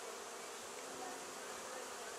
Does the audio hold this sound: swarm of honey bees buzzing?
yes